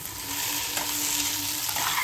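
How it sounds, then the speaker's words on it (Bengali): Potatoes fry in a pan in a home kitchen, a steady close sizzle with faint stirring scrapes and a low hum underneath, no talking. "ওদিকে রুটি করতে করতে এদিকে আলু ভাজা হয়ে গেছে।"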